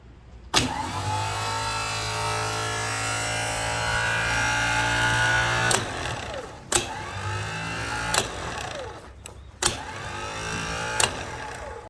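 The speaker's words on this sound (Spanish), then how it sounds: "Vamos a poder observar cómo el motor de arranque funciona." An electric starter motor on a bench test, energized through its solenoid, whirs with a steady high-pitched spin for about five seconds, then gives several short separate bursts with clicks between them.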